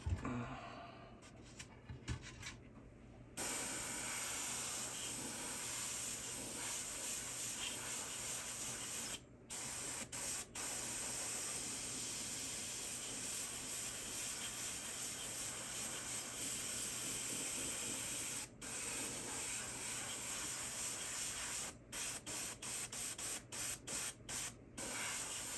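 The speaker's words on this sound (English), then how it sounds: "I'm holding my airbrush back a little bit further than I normally do so that you guys can see the paint going on" An airbrush sprays paint onto a hen mallard decoy in a steady, close hiss that runs almost without a break, cut by brief stops and a few quick on-off trigger pulses near the end, with no talking.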